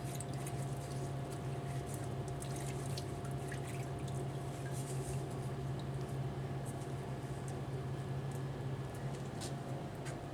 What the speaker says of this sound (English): That's why we keep a bucket of soapy water down here to rinse off some of the extra